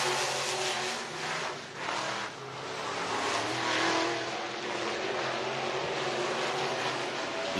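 Modified race cars qualifying on the Talladega Short Track in Alabama, engines revving and roaring past close by, with rising and falling passes, strong acceleration and a brief dip before the sound surges again.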